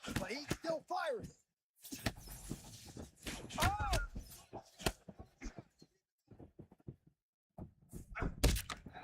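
Punches landing in a UFC fight in the EA UFC 6 video game: several sharp thuds and smacks scattered through the clip, mixed with excited commentary and crowd noise.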